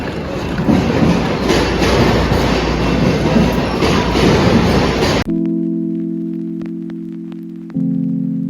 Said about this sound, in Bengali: গ্যাটউইক এয়ারপোর্ট স্টেশনে নামলাম থেমসলিংকের ট্রেন করে